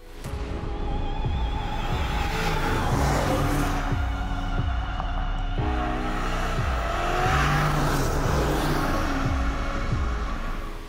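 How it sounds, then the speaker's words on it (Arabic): A 2023 Range Rover Sport drives along a road paved with small tiles, giving a steady engine and tyre rumble with rhythmic thumps as the wheels cross the paving joints, loud and close, with no speech. "نتمشى في الرانج اوفر سبورت على الطرقات"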